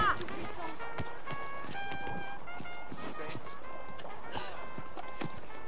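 Horse hooves clip-clop at a steady walking rhythm in Red Dead Redemption 2, distinct regular impacts close by, with tonal music or ambience and a voice speaking over them.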